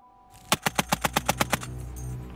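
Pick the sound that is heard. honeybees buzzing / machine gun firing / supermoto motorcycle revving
machine gun firing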